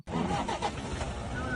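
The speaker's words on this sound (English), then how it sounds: "What you hear is the truck starting." Safari truck engine cranking and catching, then a steady loud rumbling idle close by, with faint voices mixed underneath.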